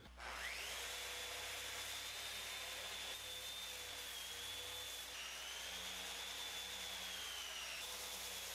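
A power sander with fine 220-grit sandpaper works a wood surface, giving a steady, loud whine with a high motor tone that holds through the whole stretch, slightly shifting pitch, with no talk.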